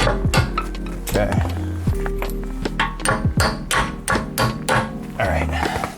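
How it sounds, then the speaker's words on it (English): Hammer tapping a bolt through a rear camber arm on a BMW E46 M3, a series of close, sharp metallic strikes in an uneven rhythm with ringing clinks between them. "I'm just gonna tap the bolt through."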